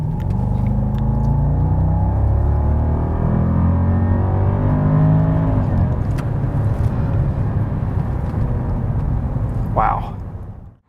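A 2011 Jaguar XJ L in sport mode accelerates hard from about 25 mph, a deep steady engine drone heard from inside the cabin that holds loud and constant before dropping away at the end.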